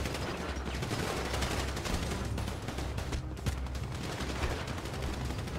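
Rapid bursts of video game gunfire in GTA RP crackle continuously, overlapping shots and volleys at a steady moderate level, like an ongoing firefight with police.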